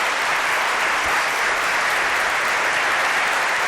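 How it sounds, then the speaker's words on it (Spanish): A studio audience applauds a guest at a talk event, with loud, dense and continuous clapping that fills the whole stretch evenly. "Os pido un aplauso para él, nuestro primer invitado."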